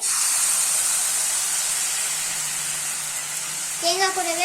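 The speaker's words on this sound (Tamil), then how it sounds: "இப்போ நம்ம வெள்ளைப்பாகு ஊற்றிடலாம்" White sugar syrup poured into a pan of sautéed coconut, giving a steady broad hiss and sizzle throughout, with a faint rising tonal sound near the end.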